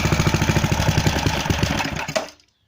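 A Briggs & Stratton small engine with a carburetor problem is pull-started on choke, giving a rapid chugging rhythm of compression pulses that sputters for about two seconds, fails to catch and stops into silence.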